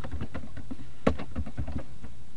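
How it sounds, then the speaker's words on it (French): Quick, uneven keystrokes clatter on a computer keyboard as a comment is typed into JavaScript code. The taps come close and clear in short bursts, with no talking. "je tape un petit commentaire"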